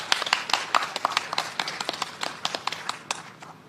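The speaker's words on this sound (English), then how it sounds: "Big round of applause to our closer today to say a few words." A crowd gathered at a cancer centre event applauds an incoming speaker with crisp, moderately loud clapping that forms an irregular run of distinct claps and begins to thin toward the end.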